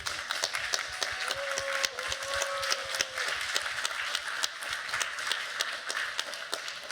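An audience bursts into sustained applause and cheering for Larry Fink at an event on Ukraine's ideas, with crisp overlapping claps and a brief whoop rising over the wash.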